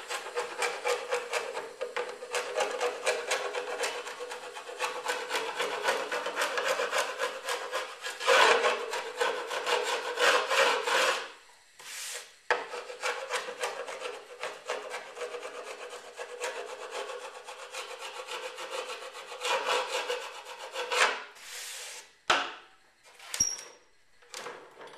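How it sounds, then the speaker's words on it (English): Sharp chisel shaving dried glue off the surface of a bookmatched wooden guitar top, heard close up as steady repeated rasping, scraping strokes that run almost continuously, with brief pauses near the end. "it will slice off nicely with a sharp chisel"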